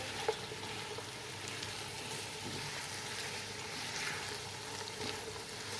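Shredded cabbage and mixed vegetables fry in a pan for vegetable boiled rice, giving a faint, even sizzle that holds steady throughout without talk.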